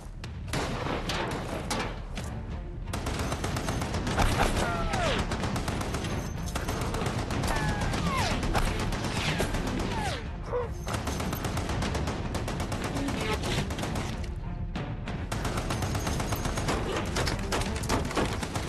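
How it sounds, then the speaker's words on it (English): Sustained burst of heavy .50 caliber machine gun fire in a movie battle scene, rapid continuous rounds with booming impacts, loud and dense for the whole stretch with only brief pauses. "keep firing that gun"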